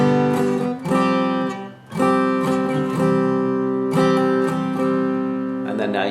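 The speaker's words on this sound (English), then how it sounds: "that would sound like this if I did the picking through instead of strumming" Guitar picks through the chords of a song starting from the G transition, playing arpeggiated chords with a few brief dips between changes, close and sustained throughout.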